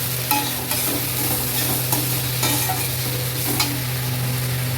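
Pointed gourd is stir-fried with sugar in a pan for doi potol, giving a dense close sizzle with a low steady hum and rhythmic spatula scrapes about every half second.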